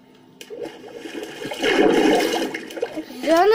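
Water in Minecraft gushes and burbles loudly, swelling midway, with a brief voice and a rising squeaky tone near the end.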